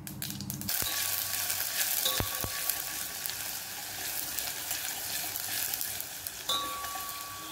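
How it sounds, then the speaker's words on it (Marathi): Onion and mustard seeds sautéing in oil in a pot, a loud continuous sizzle with a couple of sharp utensil taps near the start, heard close and alone. "तेलामध्ये कांदा हा परतून घेतलेला आहे"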